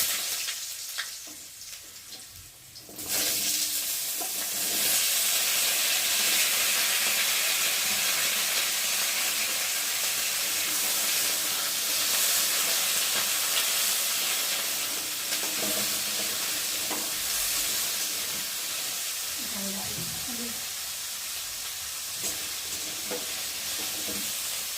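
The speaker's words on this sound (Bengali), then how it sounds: "এখন এই যে কেটে রাখা ছোটো ছোটো আলুগুলোকে দিয়ে ভালো করে ভেজে নেব।" Small cut potato pieces fry in a pan with steady, loud sizzling and hissing that runs almost without a break, with occasional stirring clatter and no talk.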